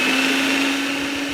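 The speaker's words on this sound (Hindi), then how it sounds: "अब मैं प्याज को अच्छे तरीके से यहाँ पर जो है ना इसको कर रहा हूँ चॉप।" An electric food chopper whirs loudly as it chops onion, a steady high-pitched motor whine that holds for the whole moment, with no speech.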